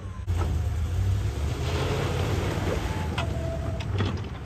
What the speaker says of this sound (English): This is my first time ever really running this loader, especially plowing with it.